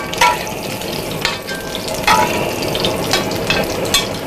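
Buckwheat fritters (hrechanyky) frying in oil in a pan give a steady, close crackling sizzle with a few louder spitting bursts. No one speaks.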